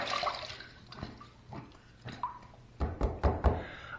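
Water runs and splashes as a razor is rinsed mid-shave, with short bursts of flow and a few knocks of the razor against the basin growing louder toward the end.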